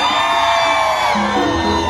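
Loud shouts and whoops rise from women in the crowd at a fair concert in Jáltipan, Veracruz. Voices hold sustained calls above a steady crowd roar, with sung or shouted pitches sliding through the second half.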